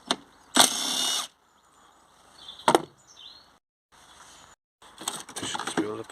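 Power tool undoing 10mm bolts on Ford Focus front suspension, short loud bursts of whirring with gaps between, close by in a workshop.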